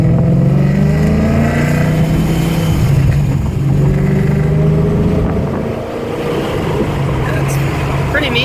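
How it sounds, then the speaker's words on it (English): A supercharged Coyote Ford Mustang engine fitted with a torque booster and a blow-off valve rumbles loud and close, its revs rising and falling in a continuous growl. "It has a torque booster, so you hear the blow-off valve."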